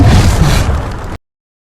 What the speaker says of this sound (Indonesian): mendadak terjadi suatu ledakan dahsyat yang ternyata disebabkan oleh kedatangan Ares